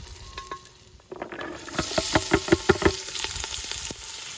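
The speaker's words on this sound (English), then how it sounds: "Browning the bacon." Bacon browning in a cast-iron potjie pot over a wood fire, a steady sizzle and spit that swells as the meat hits the hot fat, with a few stirring scrapes and no voices.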